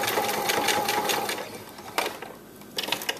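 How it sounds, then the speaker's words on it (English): A sewing machine runs steadily while straight-stitching along the edges of a bra, its rapid needle chatter close and continuous before easing off into a few scattered clicks near the end. "So they had a little straight stitch right here along the edges, so I want to stitch those down also."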